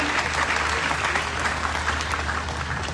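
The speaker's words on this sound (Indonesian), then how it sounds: "Boleh tepuk tangan buat mereka yang terlibat di sini." Dense, steady applause fills a large evening political gathering of the Nasdem party in West Java. The many hands clap continuously at even strength with a low hum beneath, and nobody speaks over it.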